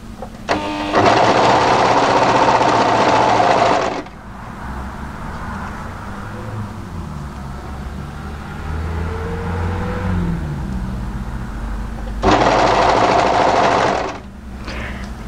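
Sewing machine stitching the shoulder seam of a mid-length wrap cardigan, two loud bursts of rapid running separated by a long quieter stretch of handling the fabric.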